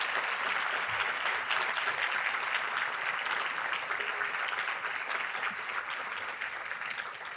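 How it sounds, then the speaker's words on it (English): Audience applauding elected officials at a Latino leaders luncheon, steady dense clapping from many hands filling the room throughout without letup. "I want everyone to applaud, please, for the recognition of what they do."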